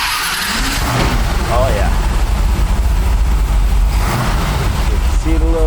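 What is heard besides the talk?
1970s Plymouth Cuda muscle car engine driving off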